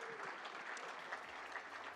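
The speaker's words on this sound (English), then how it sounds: "Let's give them a big round of applause." Faint, distant crowd applause for sponsors at a Kiwi Indian Hall of Fame awards event, a soft continuous patter with no clear individual claps.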